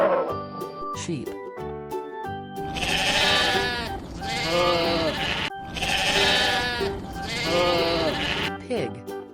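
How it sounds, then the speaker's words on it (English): Sheep bleat in repeated loud, wavering cries, two long calls close together then two more after a brief gap, with shorter bleats before and after. "Sheep."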